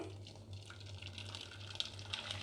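Starchy water from cooking ration rice is poured through a cotton cloth into a bowl, a soft, continuous trickle and splash that stays quiet and close, with faint drips and no talking.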